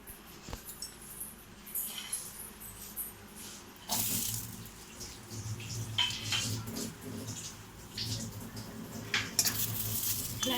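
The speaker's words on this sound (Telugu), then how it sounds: "లైట్గా కొంచెం పచ్చి వాసన పోయే వరకు ఫ్రై చేసుకుందామండి." Green chillies sizzle and hiss in a hot pan while being fried for a peanut chutney, with a steady spattering crackle and occasional clinks and scrapes of the pan, close and fairly loud.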